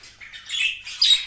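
A budgerigar gives two short, harsh squawks close by, scratchy and high, with a brief pause between them and no other sounds.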